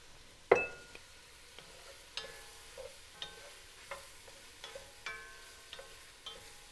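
Onions cooking in butter and olive oil, a faint low sizzle under a series of separate metallic clinks and taps from a utensil in the pan, quiet and close.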